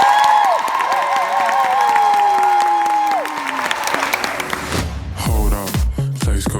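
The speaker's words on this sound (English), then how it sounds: "Here is the cue for double speed applause." A studio audience bursts into fast, dense applause and cheering, first under warbling whistle-like tones, then joined by a thumping musical beat near the end.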